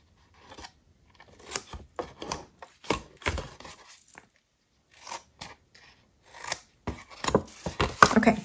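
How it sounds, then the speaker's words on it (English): Paper snips cut card stock up to score lines in a series of sharp, close crunching snips, separated by short pauses, with no talking. "we're going to cut up to the score line on all 3 of these score lines"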